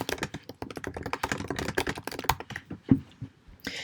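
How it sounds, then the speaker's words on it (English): Quick, irregular clacking of keys on a computer keyboard, close and clear, with rapid taps in bursts and brief pauses and no voices. "you can start typing wherever you want to on this page"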